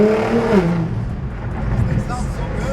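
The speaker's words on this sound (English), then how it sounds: "Upgraded turbo Altima sounds crazy, bro" Turbocharged Nissan Altima tuned to pass as a GT-R, with upgraded turbos, revving in a Miami neighborhood: a short rising engine whine that swells and fades over a few seconds, heard under people talking.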